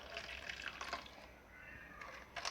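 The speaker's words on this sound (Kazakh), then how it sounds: "Енді жылы суды құяйық." Warm water pours into a tomato plant pot, a soft trickling splash that runs steadily with slight surges, quiet and close, alone without talk.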